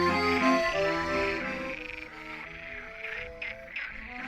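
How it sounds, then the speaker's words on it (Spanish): A chorus of frogs croaking in spring at a mountain meadow pond in the Pyrenees, dense overlapping calls held steadily throughout, moderately loud with no voices. "En primavera podemos disfrutar, las estáis escuchando, a las ranas"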